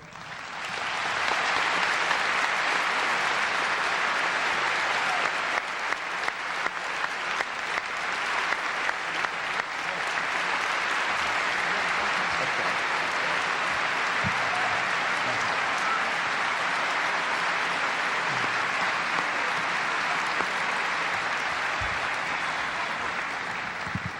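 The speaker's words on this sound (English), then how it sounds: "let the band and the rest of us applaud you" Audience at an all-state band concert applauding the standing parents, a loud, sustained roar of clapping that fills the whole stretch and begins to thin out near the end.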